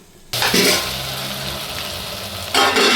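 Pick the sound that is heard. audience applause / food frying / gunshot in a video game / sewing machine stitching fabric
food frying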